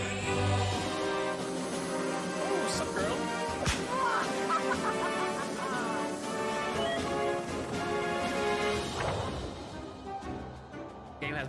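Ducks in the One Military Camp video game make a steady run of clucking, quacking calls that layer over busy game music and effects throughout, with a voice briefly speaking.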